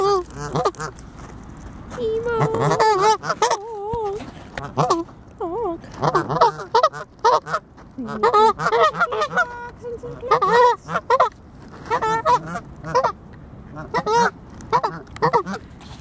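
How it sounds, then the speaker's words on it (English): Geese honking repeatedly outdoors, a string of loud nasal honks in irregular bursts, some overlapping, fairly close, with brief quieter pauses between calls. "And his goose."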